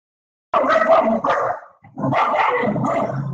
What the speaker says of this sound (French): j'ai mon chien qui s'excite